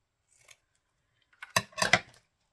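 Scissors snip paper for a handmade cluster book, a faint single cut followed after a pause by a closer burst of crisp snipping and rustling, in a quiet room.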